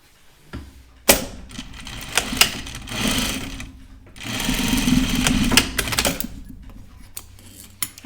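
A sewing machine stitches down a zipper on a small zip pouch in two long, steady runs of rapid mechanical whirring, close and loud, with brief pauses and handling clicks between the bursts.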